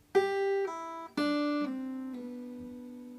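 Acoustic guitar picking out a short hammer-on and pull-off lick from a song, two bright plucked attacks each sliding into quick legato note changes, then ringing out alone and close.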